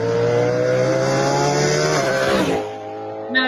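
A Cadillac GTP prototype race car engine revs hard and close with a steady, high, harmonic drone, then drops off abruptly as the throttle lifts, leaving a lower idle-like hum before a brief sharp blip near the end.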